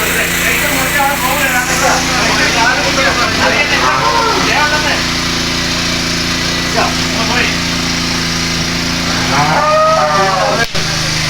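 A cow trapped between pipes in a cowshed moos repeatedly, loud and close, over a steady engine drone, with fire rescue workers talking in the background.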